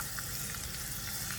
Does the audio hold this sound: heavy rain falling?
no